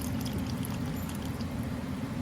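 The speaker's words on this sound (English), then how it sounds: "I'm just gonna pour the whole thing in" Bone broth is poured into a cooking pot, a soft continuous liquid pour heard faintly and steadily without interruption.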